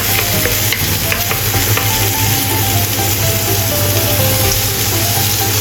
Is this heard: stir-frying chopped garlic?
yes